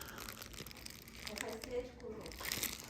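A green packet of Flint croutons crinkles and rustles as it is handled and poured out, a run of soft crackles and crunches under nearby conversation.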